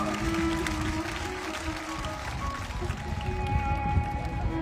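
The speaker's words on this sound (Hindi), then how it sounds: "एक बार जालोर वालों के लिए जोरदार तालियां हो जाओ।" A crowd at a religious storytelling event in Jalore claps and cheers in a lively burst, the applause mixed with murmuring voices and some tonal background sound.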